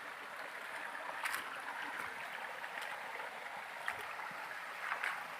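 A small creek fed by a steady water source flows with a constant soft rush and gurgle, faint and unbroken, with no voices.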